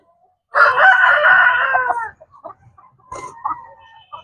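Rooster crowing loudly and close, a single drawn-out call lasting about a second and a half, followed by softer scattered clucks from chickens on a breeding farm.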